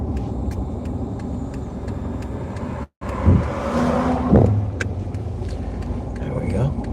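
A Subaru car rolling slowly and pulling over, steady engine and road rumble heard from inside, with a brief cut midway and a person talking over it.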